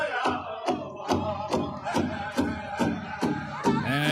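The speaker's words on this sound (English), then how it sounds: "Here's a bit of the crowd yesterday." Crowd at a Sioux Valley ceremony with a horse and buggy arriving, heard as a rhythmic chant or drum-like pulse repeating about every half second, with voices and crowd noise layered over it.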